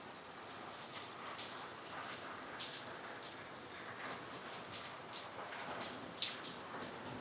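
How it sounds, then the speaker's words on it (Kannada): Rain pours into the open central courtyard of a traditional South Indian house, a soft continuous patter broken by scattered louder drops and splashes, fairly quiet and unbroken by voices. "ನೋಡಿ ನೋಡಿ ಮಳೆ ಎಲ್ಲ ಎಷ್ಟು ಚೆನ್ನಾಗಿ ಬರ್ತಾಯಿದೆ."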